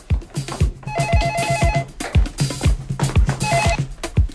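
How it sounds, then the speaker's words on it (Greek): A telephone bell rings in repeated bursts with short pauses between, loud and close, with no voices. "Σήκω στο τηλέφωνο."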